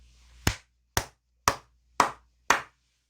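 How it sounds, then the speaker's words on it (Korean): Five single hand claps, evenly spaced about half a second apart, sharp and close with quick decay and silence between, from a Korean stock-market commentator celebrating Samsung Electronics news. "너무나 기분 좋은 소식이기 때문에 크게 박수 한번 치고 가도록 하겠습니다"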